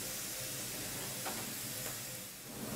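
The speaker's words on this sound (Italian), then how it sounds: "iniziamo ad adagiare il pesce sul tegame. Allora, questi sono pezzi di luccio, di tinca e di anguilla naturalmente" Pieces of pike, tench and eel laid into a hot pan fill it with a steady, even sizzle of frying fish, close and continuous, with two faint soft clicks partway through.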